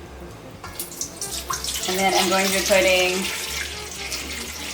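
Warm water runs from a kitchen tap while measuring cups of water for bread dough, a steady splashing stream with a person talking over it.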